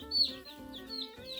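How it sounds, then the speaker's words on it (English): Buff Orpington meat chickens cluck softly nearby in a run of short, low murmuring calls with a few brief higher peeps, and no voices. "these are all of our meat chickens"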